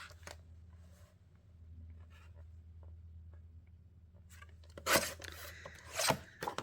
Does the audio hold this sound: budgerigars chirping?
no